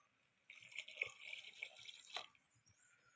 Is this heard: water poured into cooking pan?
yes